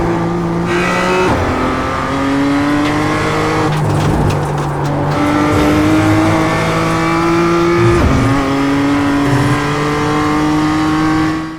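A race car in the iRacing sim slides out as it is overdriven, engine loud and continuous with rising revs, gear changes and brief tire-scrub noise throughout, no talk.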